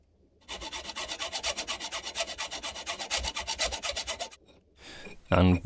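Hacksaw cutting through a TO220 transistor package, a steady run of quick, rasping back-and-forth strokes close up, followed by a brief pause and a few louder knocks at the end.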